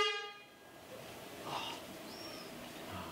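A horn blast marks the start of a timed challenge in an outdoor spotcheck game, a short loud tone fading into open ambient noise with faint higher tones afterward.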